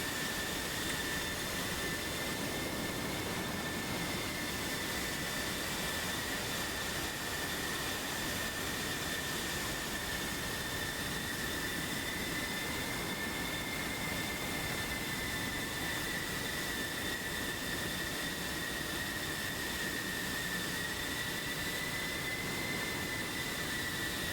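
Jet engines of military aircraft in distinctive liveries whine steadily as the planes begin to taxi, a continuous loud roar with a sustained high-pitched tone running throughout, no voices over it.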